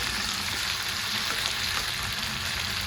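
Something stirred in hot oil in a home kitchen, a dense, even hiss of frying that holds steady from start to finish, with no voices.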